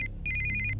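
A mobile phone ringtone plays a bright, repeating electronic trill of rapid pulsed notes, loud and close, with a low hum underneath.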